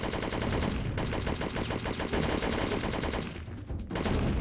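Rapid automatic gunfire from enemies in the Syphon Filter video game rattles almost nonstop, loud and close, with a short dip in the bursts before it resumes.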